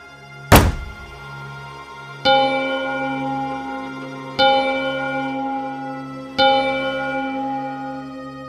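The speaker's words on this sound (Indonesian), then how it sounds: "terdengar suara orang jatuh tepat di depan pintu" A heavy, resonant thunk rings out in front of a bedroom door, then three more similar booming knocks follow at regular intervals, each leaving a long ringing decay; no voices.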